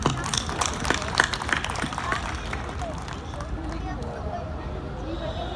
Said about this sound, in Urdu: تو پہلے تو آپ لوگ اپنے لیے ہی تالیاں بجا لیجئے